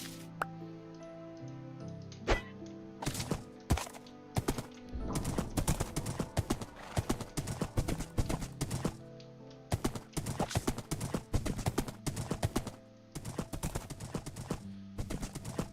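Horse hooves clip-clopping in Minecraft, a dense run of sharp blocky hoofbeats, sparse at first then fast and continuous, close and alone over faint game ambience.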